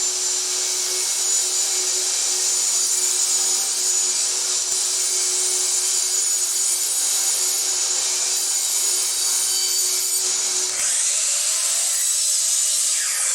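A saw rips a thin planed board of pallet wood to width for a jewelry box, a steady high whine holding at even loudness throughout with no talk.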